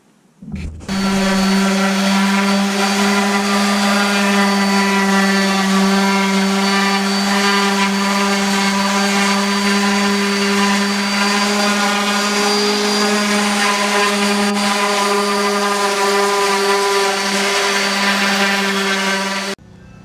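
A steady, loud mechanical whine of a power sander running continuously on a wooden dresser, with a constant pitch and buzzing overtones, starting abruptly and stopping near the end.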